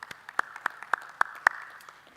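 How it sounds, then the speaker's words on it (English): A few sparse claps, five or six distinct sharp hand claps at an even pace, from the audience at a cashew industry conference for the presenters and panelists, fairly close and faint, over a low room murmur. "Please, a round of applause for the presentators and panelists."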